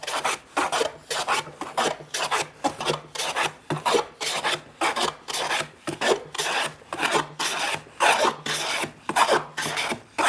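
A hand plane cuts cross grain across an archtop guitar wood plate, making rhythmic rasping strokes about twice per second. They sound close and crisp, with brief pauses between them.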